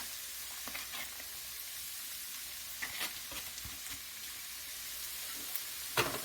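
Two cloves of freshly minced garlic go into a hot pan and fry with a soft, even sizzle. A few faint clicks of a utensil sound near the end.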